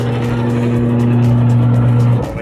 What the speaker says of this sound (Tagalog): So, pag sinarado ko siya, umiikot na siya.